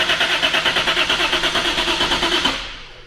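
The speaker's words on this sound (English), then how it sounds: "Crank it until Spoon yells at us" A 2JZ engine swapped into a Scion FR-S cranks over on the starter in a steady, rapid rhythmic whir for a couple of seconds, close and loud, then stops without catching.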